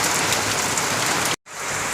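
Sudden rain pours down in sunshine, a loud, steady hiss of drops on surfaces filling the whole stretch, broken only by a momentary dropout near the end.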